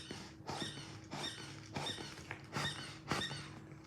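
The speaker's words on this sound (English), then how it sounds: "He also squeaks." A rubber Toy Story toy's squeaker is squeezed repeatedly, giving about six close, evenly spaced squeaks.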